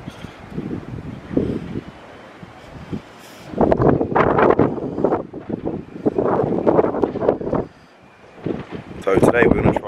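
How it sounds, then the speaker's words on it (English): Strong outdoor wind by a villa pool on Mykonos roars against the microphone in heavy bursts that rise and drop, with a person talking through much of it. "It's very windy"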